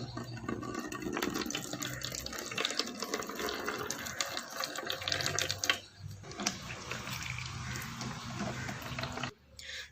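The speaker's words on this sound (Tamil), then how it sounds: "இப்போ இதன் தண்ணியை வந்து வடித்து எடுத்துக்கலாம்" Liquid fertilizer fermented for rose plants is strained, and water pours and splashes steadily and close up for several seconds, with brief pauses and faint handling noises.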